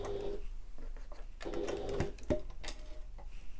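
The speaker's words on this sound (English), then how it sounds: "do a couple of back stitches, sew all the way along, and I'm going as close as I can to the ring" A sewing machine stitching along a sling bag strap close to a ring, with faint, short bursts of stitching and small mechanical clicks in between.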